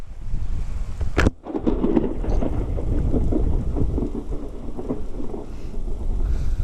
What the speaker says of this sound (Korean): 비 너무 많이 와 어? 번개쳐